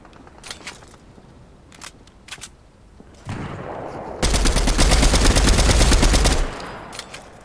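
Video game gunfire rings out close and loud: a few scattered single shots, then a dense sustained burst of rapid automatic fire lasting about two seconds before tapering back to isolated shots.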